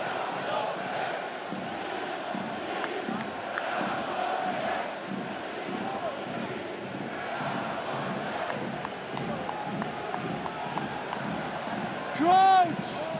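Rugby stadium crowd at a packed Stade Rochelais match against Munster, a broad roar rising and chanting in the distance beneath steady commentary talk.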